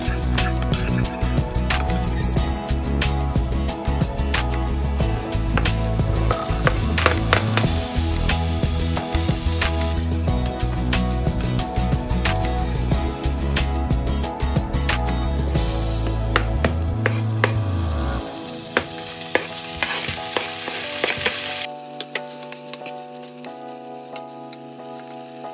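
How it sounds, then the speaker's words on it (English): Garlic, onion and beef sauté in a warm pan with a little oil, giving a loud, continuous sizzle with bursts of crackling and occasional stirring scrapes before the sizzle thins out near the end. "In a warm pan with very little amount of oil, saute garlic, onion,"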